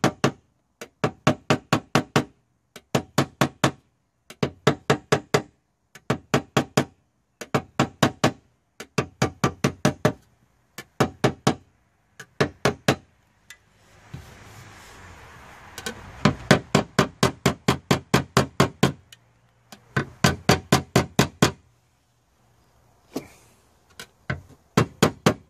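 Paintless dent repair on a car body panel, with the metal warmed first, as a hammer taps out a dent: quick bursts of close, sharp metallic taps in regular clusters, separated by short pauses and a brief low rushing sound.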